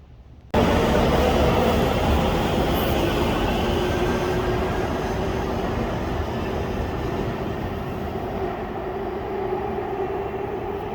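A loud, continuous rumble of a train rolling through the Civic Center train station, starting abruptly and holding steady, with no voices.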